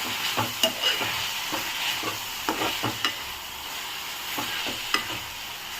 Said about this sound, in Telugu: దంచి పెట్టుకున్న అల్లం వెల్లుల్లి పేస్ట్, కొంచెం పసుపు, సరిపడనంత కారం వేసుకొని ఒకసారి మిక్స్ చేసుకుందాము